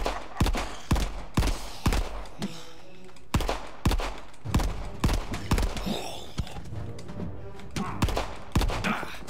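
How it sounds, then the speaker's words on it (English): Gunshots in the horror game Nine Witches: Family Disruption, a series of sharp separate blasts in irregular bursts, loud and punchy with thuds between, a voice faintly underneath. "Two shots off."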